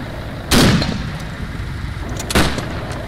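Gunfire in ARMA 3, aimed at a vehicle's tires during a WW2 British commando operation: two loud, sharp shots about two seconds apart over steady engine and ambient rumble.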